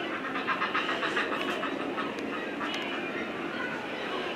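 Seabirds call from a bird cliff, a dense chorus of overlapping honking and quacking cries rising steadily over a constant background rush.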